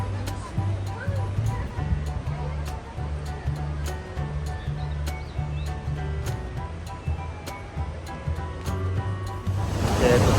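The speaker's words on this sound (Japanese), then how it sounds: "吹割の滝" Fukiware Falls, a Japanese waterfall, a steady broadband rush of falling water close by, with people talking over it and a low mechanical hum in places.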